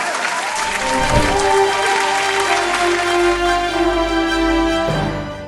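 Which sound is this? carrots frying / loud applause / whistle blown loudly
loud applause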